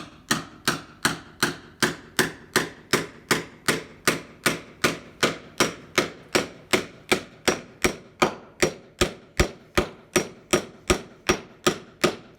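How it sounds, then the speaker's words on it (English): A metal hammer drives nails into wood on a roof again and again in a steady, even rhythm, about two sharp metallic knocks per second, loud and close. "I know I should be using a wooden hammer."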